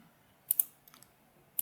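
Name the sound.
computer mouse clicks in Fusion 360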